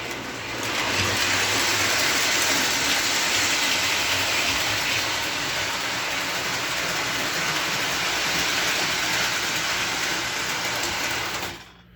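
An MTH Mohawk model locomotive, an analog unfinished kit without a flywheel, runs around its track with a steady, close, continuous whirring rumble. The sound cuts off abruptly at the end when the power goes off.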